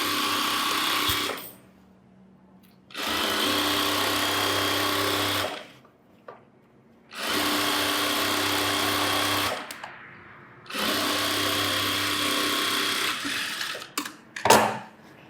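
Electric sewing machine stitching the edge of a chudithar, running in three long steady bursts of several seconds each separated by short pauses, loud and close with no talking.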